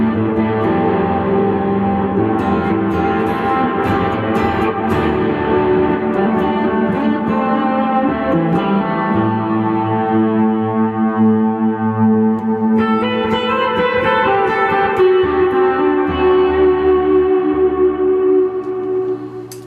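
Sustained, heavily distorted electric guitar chords from a Steinberger Spirit GT Pro Deluxe headless guitar on the bridge pickup, ringing out loudly with rich overtones, shifting between notes and held to the end.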